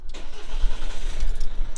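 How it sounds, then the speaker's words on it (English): A Ford C-Max's engine starting: a brief crank with a low rumble that settles into a steady idle, heard close and loud with no talking. "So what you need to do first is fire the engine up"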